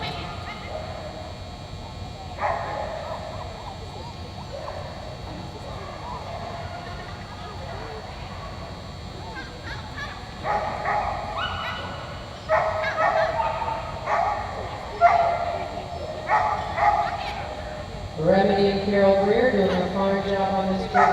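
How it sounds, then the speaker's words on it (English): A Border Collie in an agility run at a national finals event barks and yips in sporadic bursts, growing louder toward the end, amid arena noise and a commentator talking over it. "now we have Carol Greer and her Border Collie"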